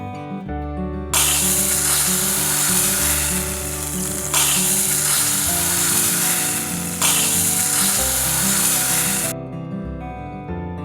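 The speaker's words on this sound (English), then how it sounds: "carefully add the hot oil to the boiled split peas" Hot oil poured onto boiled split peas for Trinidad dhal sets off loud sizzling crackle that lasts about eight seconds. The hiss comes in three strong surges, with a low steady hum underneath.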